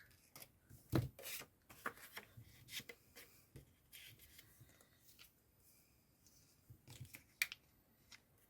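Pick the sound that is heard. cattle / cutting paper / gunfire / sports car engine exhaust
cutting paper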